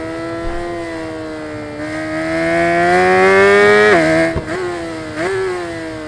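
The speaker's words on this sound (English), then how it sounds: "it has that noise on the downshifts that the Bimota has, but a little bit more pronounced here with the S1000 from 2015." A 2015 BMW S1000 motorcycle in the racing game RIDE 5, its engine holding a loud steady wail that climbs, then dips sharply on successive downshifts with a pronounced rasp, heard up close without talk.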